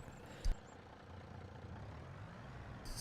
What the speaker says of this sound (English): And then we'll start the engine and get this out of the way.